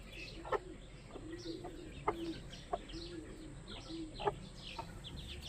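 A hen clucks in short, scattered bursts, soft and somewhat distant against a quiet outdoor background.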